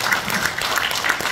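Audience applause fills a seminar hall at an academic seminar on Kim Si-ra's Pumba performance, a dense and steady wash of many hands clapping at once for the whole short stretch.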